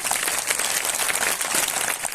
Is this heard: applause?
yes